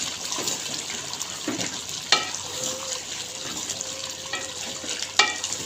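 Chicken karahi with tomatoes being stirred in a pan, a soft wet sizzle and mixing noise with a couple of sharp spoon clinks against the pan, close and fairly quiet.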